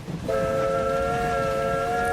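A train being dispatched in Train Valley gives a steady, bright whistle that starts abruptly and holds for about two seconds over a low rumble, with no talking.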